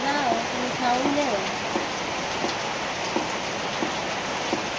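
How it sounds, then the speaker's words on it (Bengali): Steady rain pours down as a loud, even hiss with scattered drop taps, while a voice talks over it at the start. "ভগবান জানে দেখে তো বৃষ্টি নামছে।"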